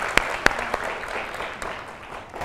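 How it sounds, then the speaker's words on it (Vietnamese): Audience applause for a young woman singer on a Vietnamese dating show, a steady wash of clapping with a few sharp loud claps near the start, moderately close and fading slightly toward the end. "Một tràng pháo tay cho cô ấy"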